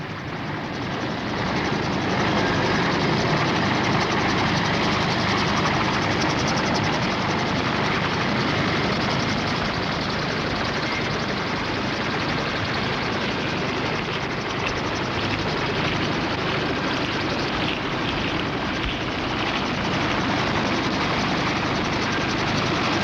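A military helicopter from the Vietnam War evacuating wounded from the rear, its engine and rotor a constant dense roar that holds steady and loud for over twenty seconds without a break.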